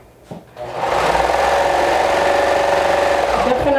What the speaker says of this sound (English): I'm going to place them right sides together and stitch along the length.